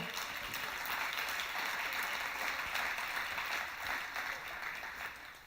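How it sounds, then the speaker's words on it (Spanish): Steady applause from a church congregation during a sermon, sustained clapping throughout that tapers slightly at the end. "dale ese aplauso a Él"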